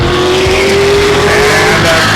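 Western Late Model race cars roar around the oval at Stockton 99 Speedway in a main event, a loud sustained engine whine rising slightly in pitch as the pack races past.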